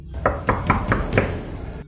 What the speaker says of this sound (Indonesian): tiba-tiba kaca mobil saya diketuk oleh sesosok perempuan